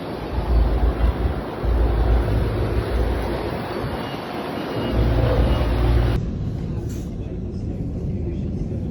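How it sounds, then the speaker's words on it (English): Blizzard wind roars in dense gusts through Calgary streets during a snowstorm, a loud, continuous broadband rush with low buffeting thumps that cuts off abruptly near the end, leaving a quieter hiss. "gusts sweep loose snow across streets and highways"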